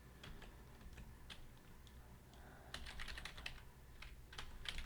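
Rapid typing on a computer keyboard, a quiet, steady stream of close, light key clicks with occasional louder bursts of keystrokes.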